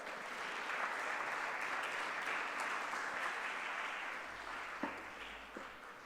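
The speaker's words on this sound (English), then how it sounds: "Please give them a round of applause." Sustained applause from an audience fills an opening ceremony at a school, The Rajkumar College in Rajkot, steady for several seconds and thinning toward the end.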